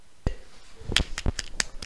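A few sharp, separate hand claps, close and distinct, during a physics demonstration on center of mass, with brief voices between them.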